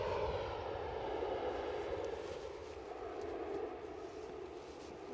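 An EasyJet airliner registered in Switzerland at Edinburgh airport, heard as a faint, steady, distant engine roar with a broad rumbling hum throughout.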